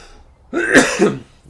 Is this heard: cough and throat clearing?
yes